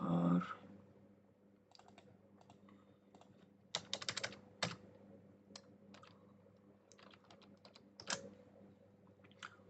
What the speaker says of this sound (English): Just type it in English